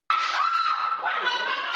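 A store worker screams during a flash-mob break-in at a jewelry store, a sustained high-pitched shriek that starts abruptly and holds steady, loud and close, for nearly two seconds.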